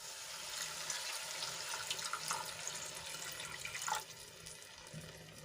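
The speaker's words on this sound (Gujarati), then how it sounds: "અહીંયા હું એક ગ્લાસ જેટલું પાણી એડ કરું છું" Water splashes and pours continuously into a cooking pan close by, a steady liquid rush with a few small clinks near the end.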